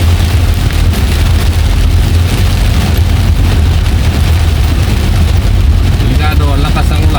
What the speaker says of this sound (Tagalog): Delikado, ang lakas ng ulan, no?